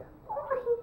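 A kitten gives a short, rising meow indoors at home, close and moderately loud over a quiet room background.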